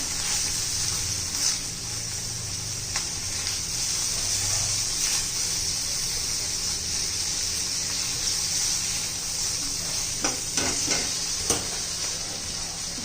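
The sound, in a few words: stirring chilies frying in a pan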